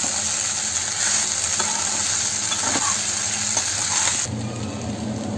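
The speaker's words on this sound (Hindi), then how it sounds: "अभी इसके अंदर में ये जो साबूदाना है सारे इसके अंदर मिक्स कर देंगे। और हल्का हाथों से अच्छे से मिक्स करेंगे।" Sabudana is mixed into a hot pan for fasting khichdi, giving a loud continuous sizzle with light scraping stirs that abruptly quiets near the end.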